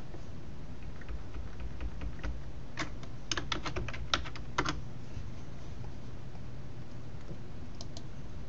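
Someone types on a computer keyboard in brief bursts of clicking keystrokes over a low steady hum, near and fairly quiet, with no talking.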